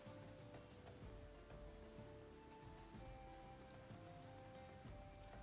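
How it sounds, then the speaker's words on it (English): Steady rain falling in the video game Final Fantasy XIV, a soft continuous patter with light drops, faint ambient music beneath, no talking. "it seems to be raining pretty nicely out here"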